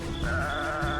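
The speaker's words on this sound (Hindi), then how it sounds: "फिर उसे बकरी के बच्चे की आवाज आने लगी।" A baby goat bleating in a single drawn-out, wavering cry, loud and close, used as an eerie sound effect in a village horror story.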